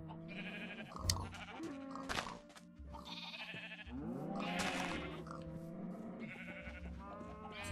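Minecraft sheep bleating in repeated wavering calls over a busy game soundscape with background music, several overlapping bleats spread across the stretch, fairly close and clear.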